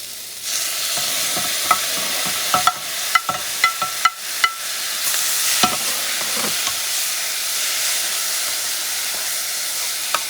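Tomato stirred and frying in a hot pan for carne with pasta: a steady sizzling hiss under repeated scraping clicks of a utensil, busy in the first half and then settling to a continuous sizzle.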